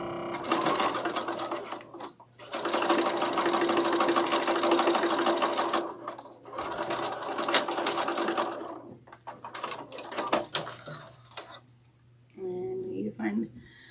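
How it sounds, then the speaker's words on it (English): A sewing machine stitches across fabric in long steady buzzing runs broken by brief pauses and a few clicks, close and fairly loud, with someone talking intermittently. "we're just gonna sew across, make sure my stitch length is right"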